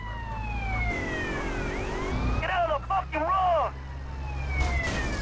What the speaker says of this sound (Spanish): sabiendo que viene la policía con la sirena